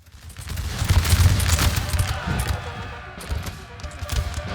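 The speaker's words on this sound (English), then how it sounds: "Looks like my Jaegers are firing now." Musket volley fire from Jaeger infantry in the Napoleonic battle game NTW3, heard as a rolling crackle of overlapping shots with a booming low rumble, loud and close and continuing through the clip.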